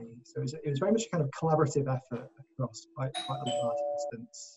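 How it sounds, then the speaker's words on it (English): A doorbell chime rings briefly in the background while a person keeps talking over it. "That's my doorbell just went."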